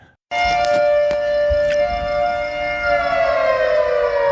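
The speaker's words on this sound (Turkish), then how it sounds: "Amerikan kasırga sireni." An American tornado siren starts abruptly and holds a loud, steady wail that slowly drifts in pitch, with a few faint clicks underneath.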